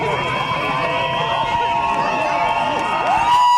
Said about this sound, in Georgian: ისმის აქციის მონაწილეების მხრიდან შეძახილი რომ ვიყვარხართ ქალბატონო პრეზიდენტო